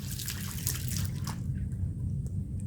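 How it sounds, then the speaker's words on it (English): Tap water trickles and splashes while a glass transfer pipette is being rinsed, a faint, close flow of liquid that thins after about a second into scattered soft drips. "Now we can do the same thing with tap water to rinse it out."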